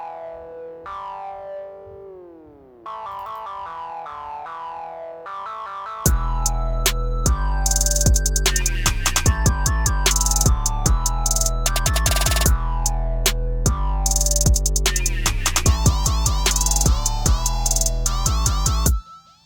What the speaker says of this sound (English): Today we're gonna go over an effect I like to call the toad bass.